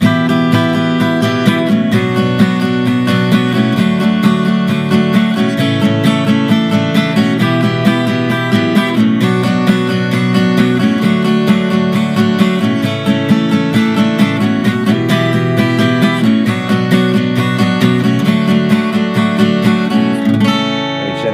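An acoustic guitar strums the chorus chord progression of a song in a steady, even rhythm, loud and close, with no voices.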